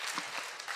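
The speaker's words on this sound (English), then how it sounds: "Another clap." An audience at the White House Correspondents' Dinner breaks into a short burst of dense, steady applause from many hands, with no talk over it.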